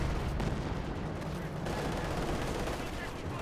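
Tank cannons of a T-35 and a Panther IV trade fire in a Company of Heroes 2 battle, dense booming shots and rumbling battle noise layered continuously, with voices mixed in underneath.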